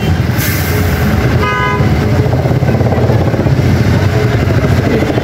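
A motorcycle engine drones loud and close on a mountain road, with constant rumble and wind buffeting, and a short horn toot sounding near the start.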